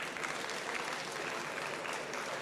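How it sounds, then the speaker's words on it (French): An audience applauds award winners at the Natexpo 2024 trophy ceremony, a dense, even wash of clapping held steady throughout at moderate distance. "Je pense qu'ils méritent qu'on les applaudisse une dernière fois."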